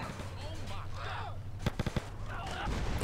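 Gunfire in GTA San Andreas: a quick run of four sharp, loud shots in the middle, with a low game engine hum and some faint voices underneath.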